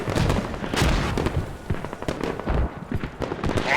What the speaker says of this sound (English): Mortar is now being launched on the south on Commander's FOB now.